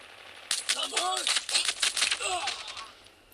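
Rapid gunfire from a small pistol in a video game, a quick run of sharp cracks and clicks from about half a second on, with game effects layered through it and no talk.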